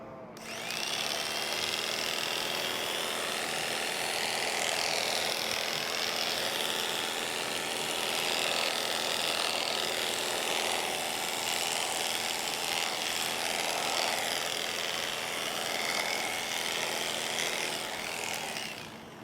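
Electric shears clipping a standing llama, a continuous buzzing, whirring motor hum that holds steady and fairly close throughout, with faint variations as the cutter works through the fleece and no speech over it.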